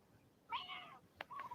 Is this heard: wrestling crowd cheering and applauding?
no